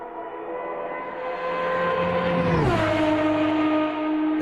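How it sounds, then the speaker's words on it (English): An IndyCar engine in a sim racing video game revs and rises in pitch, then drops sharply around the middle as it shifts or passes, holding a loud, steady whine afterward. "That's an Indy car."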